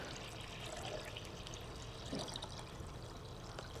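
Water being poured, 48 ounces in all, into a container for carbonation, a soft continuous trickling stream at low level throughout.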